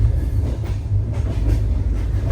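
A Mahanagari Express passenger train rumbles steadily through a rail yard near Mumbai, with a deep, continuous roll and faint rhythmic wheel clatter heard from close by.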